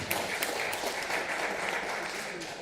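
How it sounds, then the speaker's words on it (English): An audience at a project launch event applauds, a fairly quiet, even round of clapping heard at a distance and gently fading toward the end. "Give them another round of applause."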